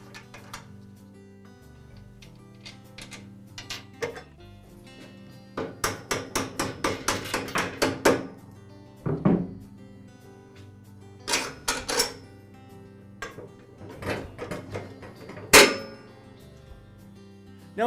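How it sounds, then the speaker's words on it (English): Metal knob and bolt being worked loose from the handle of a Troy-Bilt garden tiller, scattered close metallic clinks and clanks in irregular bursts with quiet gaps between, no talking. "And now I'll remove the adjustment knob and bolt, and that'll free the upper handle from the lower handle."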